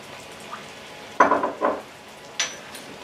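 A balsamic vinegar barbecue sauce cooks on high heat, with sharp sizzling bursts and stirring scrapes in a pan arriving in a few loud clusters between quieter stretches.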